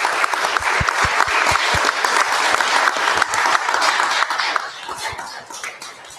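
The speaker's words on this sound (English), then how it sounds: "A round of applause for the Wilson students." A council meeting audience applauds a group of Wilson students, a dense burst of many hands clapping at once that fills the room, steady and fairly loud, then thins out toward the end.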